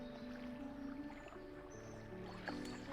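A boat engine chugs steadily from a small fishing vessel in the video game Dredge, a low continuous drone with a faint watery wash over it, close and unbroken throughout.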